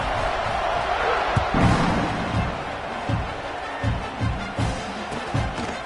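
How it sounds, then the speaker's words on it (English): A crowd in the NCAA 25 college football video game keeps up a continuous stadium roar, with dull thumps and swells rising and falling over several seconds. "this crowd is buzzing after that last score"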